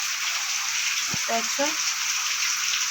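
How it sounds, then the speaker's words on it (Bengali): Rain pours steadily through a broken roof onto a veranda, making a constant even hiss that continues throughout, while a voice speaks briefly partway through. "তো দেখো এখান থেকে এই যে ভাঙাটা থেকে বৃষ্টি পড়ছে এখানে।"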